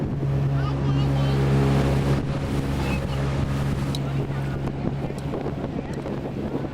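An amphibious tour boat at Wisconsin Dells churns through water, its steady low engine drone and wind buffeting the microphone running continuously and loudly throughout.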